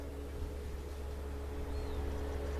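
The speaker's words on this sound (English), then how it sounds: "Excuse the road noise." Road traffic noise drifting in through open windows on a hot day, a continuous low rumble with faint passing-vehicle hiss, steady and moderately distant.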